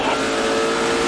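A NASCAR Nextel Cup race car at Dover accelerates with a loud, sustained engine roar and steady drone throughout, with a commentator's voice speaking over it.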